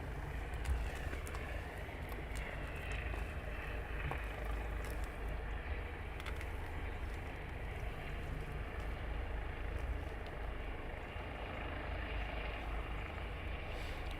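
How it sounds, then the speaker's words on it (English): A training helicopter taxies past the hangars at RAF Shawbury, a continuous distant rotor and turbine rumble that holds steady at a moderate level without voices. "And we have the one now taxiing in past the hangars."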